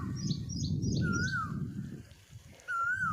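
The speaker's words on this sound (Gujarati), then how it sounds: "આ જુઓ, મધુર કોયલનો અવાજ આવે છે," An Asian koel calls on a farm, two clear rising whistled notes a second or so apart over a low background murmur, with faint chirps of other birds higher up.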